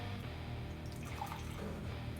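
Brewed coffee poured from a Bodum brewer in a kitchen, a steady liquid trickle and splash running continuously at moderate level for a couple of seconds.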